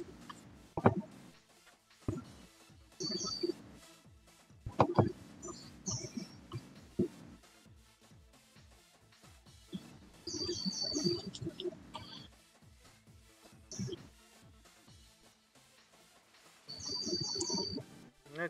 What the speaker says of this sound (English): as we hear some beautiful bird calls